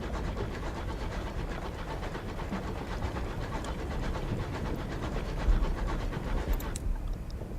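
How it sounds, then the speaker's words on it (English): A steam locomotive in the video game Sunless Skies chugs steadily, a regular rhythmic puffing beat over a dense rumbling drone that continues throughout at moderate loudness. "I do really, really love the noise of my locomotive."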